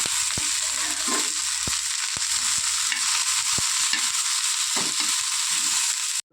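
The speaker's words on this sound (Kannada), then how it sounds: "ಚೆನ್ನಾಗಿ ಫ್ರೈ ಮಾಡೋಣ." Lady finger (okra) fries in oil in a pan with a loud, constant sizzle, punctuated by a few sharp scraping knocks of a spatula as it is stirred; no voices.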